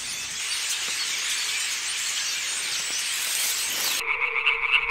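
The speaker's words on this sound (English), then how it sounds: "Thousands of fire-bellied toads, green frogs, and tree frogs join in, each one adding its own note" Fire-bellied toads, green frogs and tree frogs chorus at night in a Croatian wetland, a dense continuous wall of croaking and trilling calls that cuts abruptly to a few clearer, tonal calls near the end.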